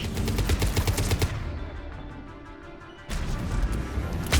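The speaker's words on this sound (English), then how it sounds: "Missiles are hot. Missiles away." A salvo of missiles fires in the Mass Effect 3 video game during the battle on Thessia. Rapid booming shots ring out, fall to a low rumble for under two seconds, then a second loud burst of fire follows.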